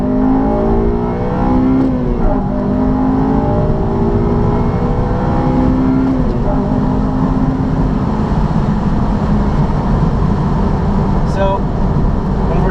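A 2011 Honda Civic Si with a VTEC engine revs and accelerates steadily, its rising engine harmonics loud and close throughout with a constant drone of road and wind noise.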